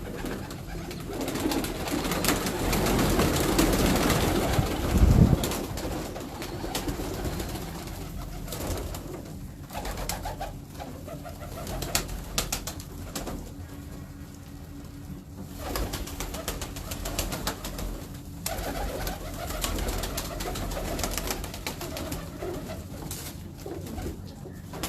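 Pigeons coo steadily from a rooftop loft, soft throaty calls repeating through a constant background hum, with one louder burst early on before the cooing settles into a low, even murmur.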